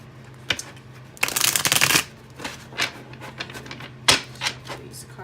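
Tarot cards shuffled by hand in quick riffling bursts, one long flurry followed by several shorter crisp snaps, close and fairly loud with no talk.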